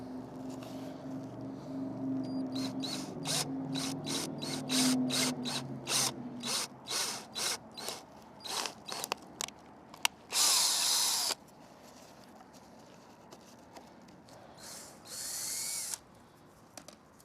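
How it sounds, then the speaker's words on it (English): Power drill boring holes through a plastic rear diffuser for a Dodge Charger Scat Pack, a string of short whirring bursts followed by two longer, louder runs near the end. "Now that we have our holes drilled out"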